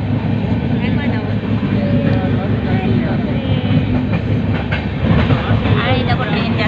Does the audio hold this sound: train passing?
yes